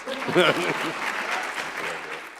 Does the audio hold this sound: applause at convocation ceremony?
yes